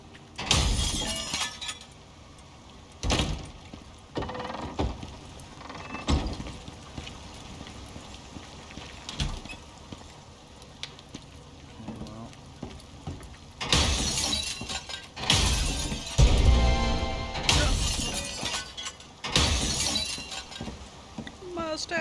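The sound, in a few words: smashing objects in the video game Icarus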